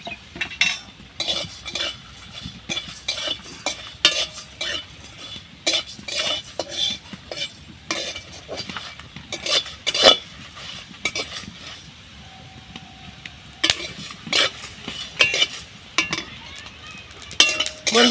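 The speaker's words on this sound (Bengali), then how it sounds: "গোটা ধনে আর গোটা জিরে একসাথে সব দিয়ে দিয়েছি বন্ধুরা। এবার ভালোভাবে ভেজে নেব।" Whole coriander and cumin seeds dry-roasting in a pan are stirred with a metal spoon, producing close, rhythmic scraping and clinking strokes over a faint rustle of seeds, with no one speaking.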